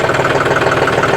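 A John Deere 5210 4WD tractor's diesel engine runs at a steady idle close by, with a continuous low rumble and a fast, even knocking pulse and no voices.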